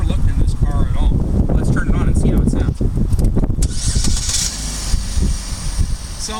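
A Chevy Malibu Eco sedan's 4-cylinder engine cranks and fires up, then settles into a steady, close idle that fills the short recording with a continuous low hum.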